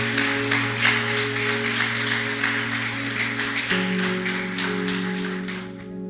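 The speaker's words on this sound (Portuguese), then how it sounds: "Você pode dar um aplauso para Jesus" Church congregation claps along in a steady rhythm over a sustained organ or keyboard drone, moderately loud and even throughout, then tapering slightly at the end.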